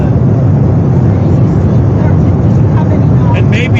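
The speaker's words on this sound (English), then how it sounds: "a little hard to hear over the jet engines" Jet engines roar loud and steady at close range, a dense unbroken rumble filling the whole stretch, with a voice faintly audible underneath near the end.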